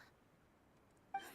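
In the video game Genshin Impact, a quiet near-silence broken near the end by a short, bright cat meow.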